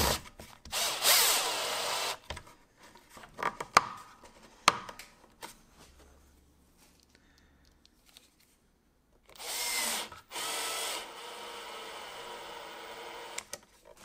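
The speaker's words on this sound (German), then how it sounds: "und schrauben einfach die Schrauben rein." Power drill driving screws into a workpiece while building a quick-change dust extraction fitting for a plunge saw, with two loud bursts of drilling at the start and end separated by quieter handling noises.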